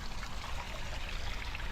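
Water drains off a boat tarp through a siphon irrigation hose, giving a faint, steady trickling and pouring hiss that stays even throughout, with no voices.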